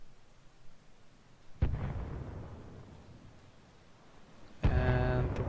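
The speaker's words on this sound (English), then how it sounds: "Mortars incoming from Soviets, yes." Soviet mortar rounds land in a World War II-style war game as two heavy, booming impacts a few seconds apart. Each impact is followed by a lingering rumble over low background noise.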